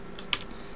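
Keys struck on a computer keyboard while entering a search query, a few light clicks with one sharper keystroke standing out, close and fairly quiet.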